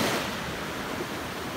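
Steady broadband wash of ocean surf at a beach, a continuous roaring hiss without distinct breaks, moderately loud and unbroken by voices.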